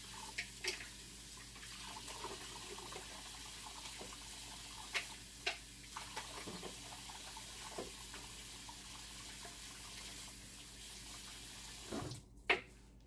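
A kitchen tap runs steadily and quietly while hands are washed during curry chicken prep, with scattered faint drips and clinks and a sharper splash near the end.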